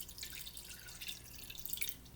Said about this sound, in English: we're going to add a half a cup of water. So we're just going to pour it in on top.